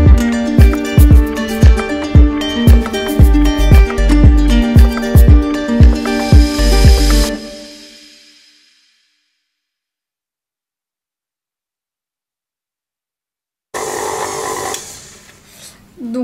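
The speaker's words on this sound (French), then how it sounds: "Donc là je vais mélanger déjà ça, pour commencer." An electric hand mixer beats vegan cookie dough in a bowl, a loud rhythmic whirring with regular pulsing for about seven seconds, then it stops into silence before a brief burst of motor noise returns near the end.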